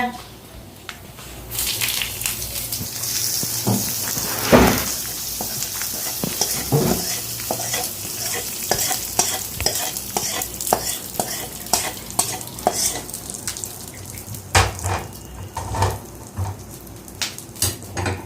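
Hot tempering is poured over and stirred into Odisha-style dahi bara, producing a sizzling, crackling wash with repeated scraping stirs and light clinks of a utensil, steady and close throughout.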